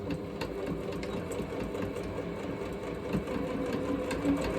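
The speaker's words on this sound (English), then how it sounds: "most of the time you have like a button on your sewing machine to hit to do that little back stitch, which is what I just did." A home sewing machine running a short back stitch on quilting fabric for a Christmas stocking, a quiet steady mechanical whirr with faint rhythmic ticking, heard close and alone.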